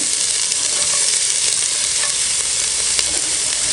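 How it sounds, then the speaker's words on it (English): Two diced brown onions hiss loudly in hot olive oil in a cast iron camp oven, a dense, continuous close-up sizzle with no pauses and no talk. "some olive oil into a hot pan and straight in with 2 diced brown onions"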